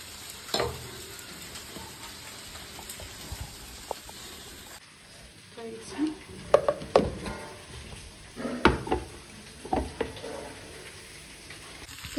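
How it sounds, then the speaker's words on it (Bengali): Chunks of jackfruit frying in a pan, a soft continuous sizzle with intermittent scraping and stirring clatters from a spatula against the pan, fairly close and without talk. "তো এখানে আমি এঁচোড়টা দেখতে পাচ্ছি ভালো সুন্দর করে ভাজা ভাজা হয়ে গেছে"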